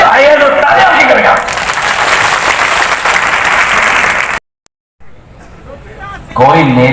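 A crowd applauds loudly at a political rally in Khandwa's Mandhata, a dense burst of clapping lasting a few seconds, with a man's amplified speech just before it and again after a brief silence.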